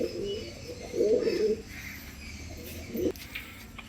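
A red-necked, stone-eyed male pigeon coos close by in two short throaty bursts, one near the start and one near the end, over a quiet background.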